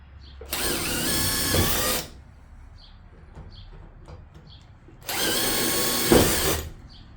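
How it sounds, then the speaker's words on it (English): Two sustained bursts of a power drill drilling out aluminum rivets, each lasting over a second, separated by quiet with faint clicks and handling noises; close and loud. "these rivets are aluminum, so it's real easy to cut through and drill them out"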